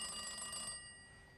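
A telephone bell rings in a jail cell, a steady metallic trill with sustained tones that fades partway through, heard alone at moderate volume.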